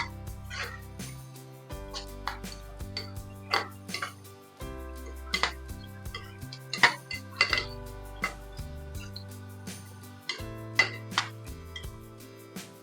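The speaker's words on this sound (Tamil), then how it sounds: "இதெல்லாம் சேர்த்து நல்லா வதக்கிக்கணும் இந்த எண்ணெயிலேயே." Spatula clattering against a pan while tomato sauce and other sauces are stirred into hot oil for gobi manchurian, with steady irregular knocks and clinks close up.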